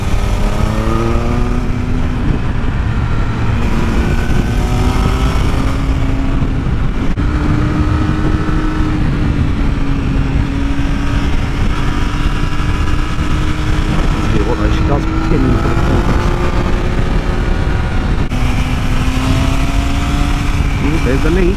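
Triumph Speed Triple RS motorcycle engine under way while riding, a steady loud drone with rising and falling pitch sweeps as it pulls through the gears, heavy wind rush throughout and a voice talking over it.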